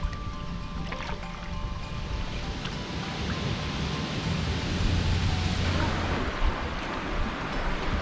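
Solo kayak paddling across a bay in Nova Scotia, with steady water wash and lapping around the hull under wind, a few splashy paddle strokes, and a low rumble building midway.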